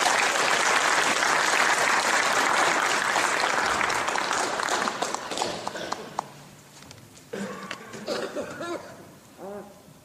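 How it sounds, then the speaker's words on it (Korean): Loud, dense applause from a church congregation welcoming a missionary to the front, holding strong for several seconds before thinning and dying away as a voice begins speaking. "우리 한번 박수로 환영할까요?"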